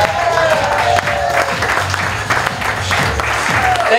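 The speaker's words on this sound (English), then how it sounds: "Let's give her a big round of applause." Live audience in a small Los Angeles show venue clapping together, a full, even burst of applause with scattered voices and cheers mixed under it.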